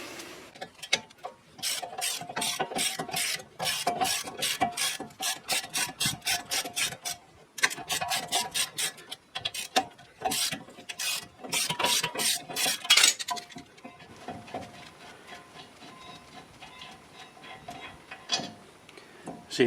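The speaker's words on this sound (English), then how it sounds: "I'm going to have to use a ratchet to get those loose." Ratchet working on brake caliper bolts of a Chevy truck, rapid clicking bursts close by, fairly quiet, stopping partway to leave faint handling noise.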